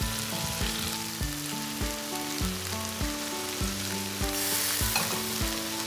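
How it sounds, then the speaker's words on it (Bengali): Scrambled egg and green chilies being stirred in a frying pan, with a steady loud sizzle and repeated scraping strokes of the spatula, no voices. "এবার আমি এখানে দিয়ে দিব ডিমের যে ঝুরি ভাজাটা, সেটা দিয়ে দিব।"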